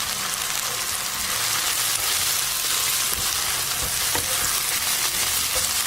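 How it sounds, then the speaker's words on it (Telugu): Gongura leaves fry in a pan with a loud, dense, unbroken sizzle and crackle, close by, with faint scraping from stirring. "ఇప్పుడు 2 నిమిషాలు ఈ గోంగూరని వేగనివ్వండి"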